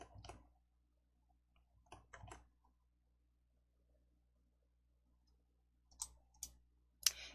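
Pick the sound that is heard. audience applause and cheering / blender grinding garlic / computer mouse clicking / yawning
computer mouse clicking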